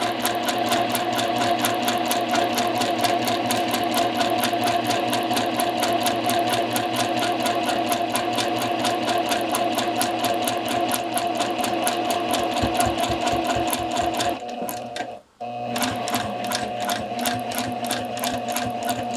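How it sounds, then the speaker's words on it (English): A sewing machine runs steadily on a number 2 stitch along a curved side seam with a 1/2 inch allowance, a fast continuous mechanical whir that breaks off briefly near the end and then resumes, with no speech. "stitch along that curved side seam"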